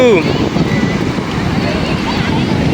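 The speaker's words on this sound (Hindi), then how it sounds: "लहरें बेहतरीन तेज़ किस्म की आई हुई हैं।" Strong sea waves surging at Karachi's Clifton beach, a steady broadband roar of surf mixed with wind buffeting the microphone, continuous and close throughout.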